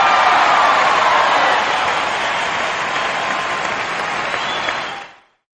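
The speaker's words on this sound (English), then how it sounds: "A round of applause for today's guest!" Studio audience applause from the Bust A Groove 2 game, a dense steady round of clapping that holds loud for about five seconds before cutting off abruptly.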